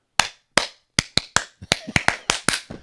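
Hands clap a simple rhythm alone: sharp, close claps, first spaced slowly, then quickening into a tighter run of about a dozen crisp strikes with silence between.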